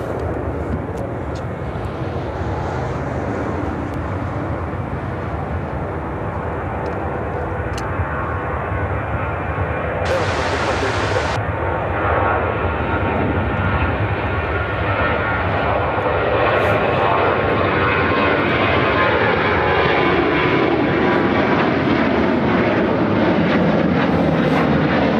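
An American Airlines Boeing 737-800 jet takes off from Chicago O'Hare for Boston, its engine roar loud and sustained and swelling gradually over about twenty-five seconds, with talk faintly underneath.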